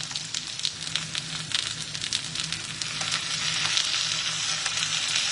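Onions sizzling and crackling in oil in a pan, part of a mixed vegetable stir-fry for sweet sour pork loins, with a steady, dense frying hiss that grows slightly louder, no talking.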